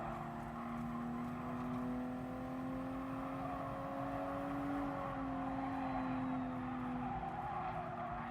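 A Toyota GR Supra in a racing game holds a steady engine drone around the Fuji circuit, the tone rising and falling slightly with throttle, tires faintly scrubbing underneath, with no one talking.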